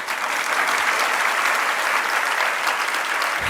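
A large audience claps steadily throughout a Jain monk's religious discourse at Tilwara Ghat in Jabalpur, a dense, even, sustained applause with no break and no talk over it.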